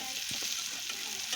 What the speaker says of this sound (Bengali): এখন কড়াতে দিয়ে দেবো পেঁয়াজ কুচিগুলি ভালো করে একটু ভেজে নেব।